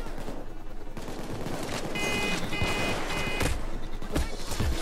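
Sniper fire and other gunfire in the Payday 2 video game, a dense continuous fusillade of shots with a few sharper cracks standing out near the end, loud and steady throughout.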